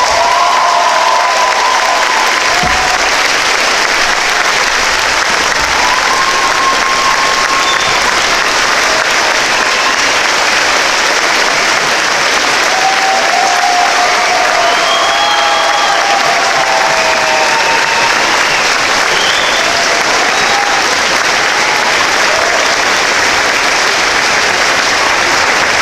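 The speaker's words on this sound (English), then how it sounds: "One more round of applause." A large crowd at a high school graduation ceremony claps steadily and loudly for about twenty-six seconds, the applause dense and sustained, with a few faint cheers and voices rising from the audience.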